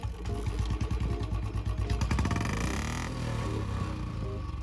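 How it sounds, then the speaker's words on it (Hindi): Royal Enfield Bullet 350 with an aftermarket silencer starting up: a rapid thumping single-cylinder beat that revs up smoothly, then settles into a steady, fairly high idle, loud and close. "मैं आपको स्टार्ट करके सुनाता हूँ इसका साउंड कैसा है"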